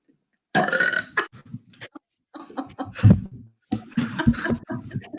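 Someone burps on cue: a run of loud, croaky, drawn-out belches in several bursts, close to the mic, with short gaps and a little laughter between them.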